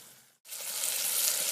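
Bacon sizzles steadily in a hot pan for an apple and onion dish, a loud, dense frying hiss that breaks off for a moment and then resumes, close by and with no talking.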